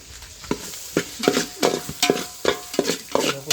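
Chicken frying in a homemade red masala gravy while being stirred, with rhythmic scraping strokes of a spoon against the pan every half second over a continuous sizzle, close and alone.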